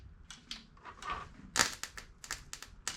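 A stud welding gun grounded against the rusty door metal of a 1956 Chevy fires in short, sharp crackling bursts, the loudest pop near the middle, with scattered clicks and snaps around it and no talk.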